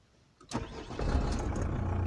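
Volkswagen Passat B5 engine cranks and catches at about half a second, then settles into a steady, close idle with a slight rise in level, no talking.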